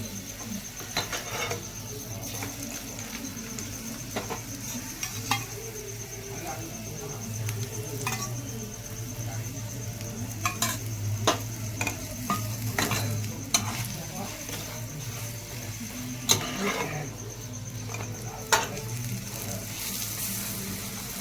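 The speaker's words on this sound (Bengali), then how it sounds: "আমি সাদা তেলে ভাজছি" A cauliflower-stuffed paratha fries in white oil with a sustained close sizzle and crackle, broken by repeated light taps and presses of a spatula over a long stretch.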